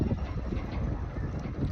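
A passenger launch departs on the Meghna River, a dense low engine rumble mixed with wind buffeting the microphone, steady and close over less than two seconds.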